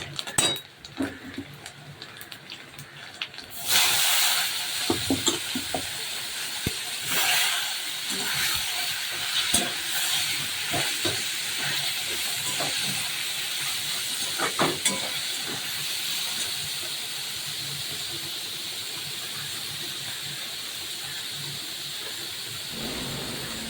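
Coconut fries in a pan with dried chilli, bay leaf and whole cumin in a Bengali kitchen, making a steady sizzling hiss broken by scattered clinks and scrapes of a utensil against the pan after a sudden start.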